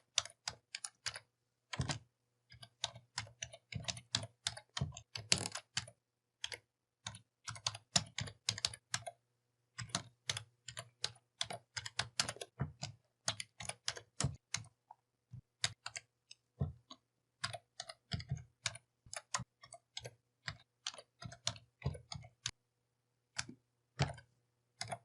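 SQL code is typed on a computer keyboard for about 25 seconds in quick, irregular bursts of sharp clicks with short pauses between them. The room is quiet and no one speaks.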